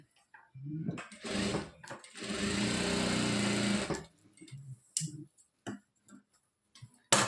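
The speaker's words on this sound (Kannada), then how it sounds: "ಇವಾಗ ಇದ್ರ ಮೇಲೆ ಒಂದು ಸ್ಟಿಚ್ ಹಾಕ್ಕೊಳ್ತೀನಿ" A sewing machine stitching churidar pants, running in short bursts with a fast mechanical ticking rattle, one long steady run in the middle, then brief clicks and handling noises; close and clear.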